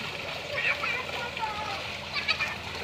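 Children swimming and splashing in clear water, bursts of splashing and sloshing mixed with excited kids' voices and adult talk throughout.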